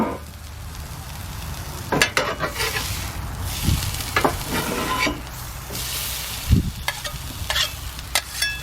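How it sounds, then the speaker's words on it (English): Onions caramelizing in a pan for a cheesesteak, sizzling and frying steadily with occasional stirring scrapes and clatters, close and moderately loud, no talk. "Onion's looking really good though. Getting nice and caramelized."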